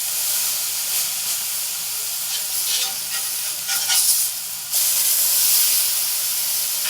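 Thin smashed turkey slider patties sizzle on a hot grill, a loud steady hiss that swells and surges in spots, with a sharper burst of crackling partway through.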